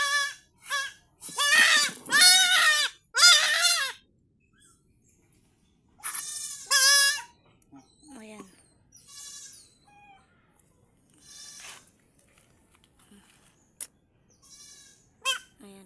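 A young goat with a wounded navel being sprayed with medicine bleats repeatedly in loud, wavering cries with pauses between, fainter bleats and small noises filling the quieter stretches.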